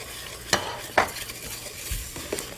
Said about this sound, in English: So let's saute the rice and beans with the vegetables, ghee and spices together for about 2 minutes.